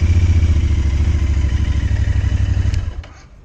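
A motorcycle engine runs close and loud with a steady pulsing idle, then is switched off near the end, leaving a short fading tail and near silence.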